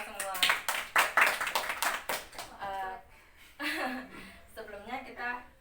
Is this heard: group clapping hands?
yes